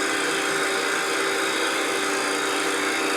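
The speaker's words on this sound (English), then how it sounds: "I think I'm going to switch to a spindle gouge and come in just a tiny little bit" Steady, loud broadband hiss and whine of a wood lathe with a spindle gouge cutting a wooden bowl, continuous with no pauses and no talking.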